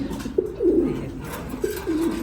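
Low, soft pigeon coos repeat twice in gentle rolling phrases, close by in a pigeon loft, with faint background hum.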